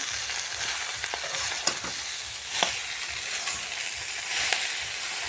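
Vegetables fry in a pan with a continuous close sizzle and a few scattered stirring scrapes, and no one speaks.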